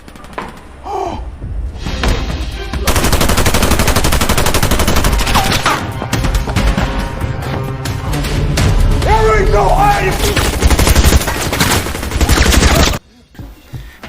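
A film shootout with sustained rapid gunfire and bursts of shots, loud and dense for about ten seconds, with voices heard briefly among the shots before it cuts off.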